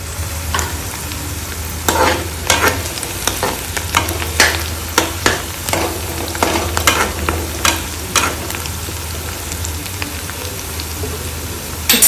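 Steady sizzle of onions and chillies frying in a pan, with a spoon stirring and scraping in irregular strokes close by, no voices.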